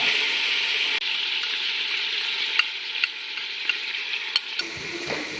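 Blended onions hit browned lamb in a hot pot for mafé, giving a loud steady sizzle with scattered stirring clacks and scrapes, then the frying drops away near the end; no one speaks.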